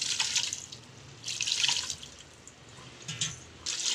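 Water is poured into a rice flour mixture with a soft, splashy trickle that comes in several quiet bursts of pouring and dribbling.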